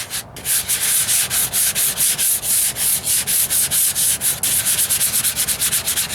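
A sanding block rasps back and forth over bodywork on the driver's side wheel arch repair of a 1998 Ford Ranger. Loud, close, steady strokes follow one another in a regular scrubbing rhythm, with no voices.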